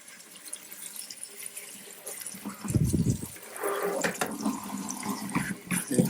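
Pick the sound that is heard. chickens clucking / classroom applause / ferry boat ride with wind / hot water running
hot water running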